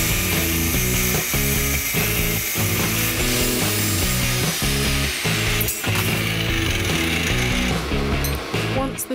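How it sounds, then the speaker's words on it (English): Steel stock being cut with a hand saw in a metalworking workshop, a steady back-and-forth rhythm of harsh rasping strokes, close and loud, continuing without pause. "I start by measuring and cutting my steel."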